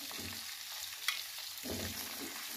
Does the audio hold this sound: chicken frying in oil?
yes